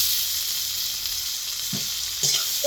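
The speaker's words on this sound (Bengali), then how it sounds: "পেঁয়াজ কিছুটা ভাজা ভাজা হয়ে গেলে পেঁয়াজের মধ্যে দিয়ে দেব টমেটো কুচি।" Chopped tomato added to onion frying in hot oil in a home kitchen pan, a loud steady sizzle with a couple of brief stirring scrapes and no talking.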